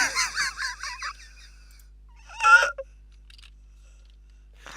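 A pheasant calls in a garden: a quick run of harsh, honking notes followed by a louder squawk a moment later, then near silence.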